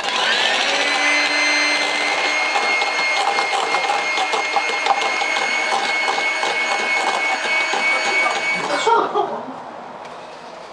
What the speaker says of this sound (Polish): Teraz ubijemy e, białka na sztywno